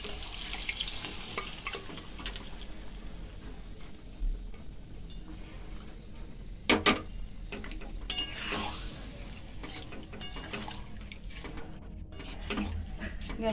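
Boiled mutton going into a pan of frying masala and potatoes, a steady sizzle with stirring scrapes and a couple of sharper clatters, close and fairly loud, no talk.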